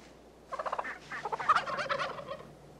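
A wild turkey's gobble rolls out as one rapid, rattling burst lasting about two seconds, moderately loud and nearby with no voices.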